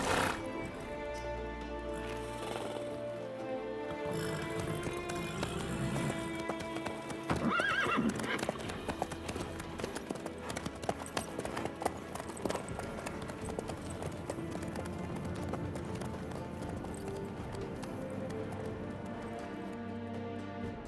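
A horse in the video game The Witcher 3 galloping with steady rhythmic hoofbeats, with a whinny near the start, set against music and ambient game sound throughout.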